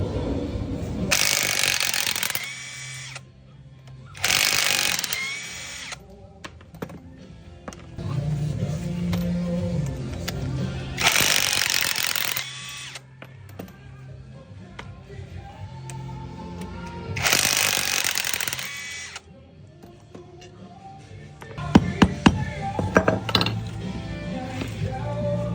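Ratchet loosening the four size 14 shock bolts on a Honda Click 125 scooter, heard as several separate bursts of close, dry clicking separated by pauses, with metallic tool clinks near the end.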